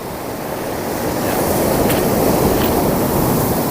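Surf rolling onto a white-sand beach on the south shore of Taliabu Island, a steady broadband wash that swells slightly and holds at a constant loud level throughout, with no voices.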